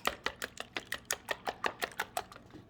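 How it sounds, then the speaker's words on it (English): Eggs are whisked in a bowl with quick, evenly spaced clicking strokes, about a dozen sharp taps in steady rhythm, close and clear with no talking. "I'm going to whisk together those eggs"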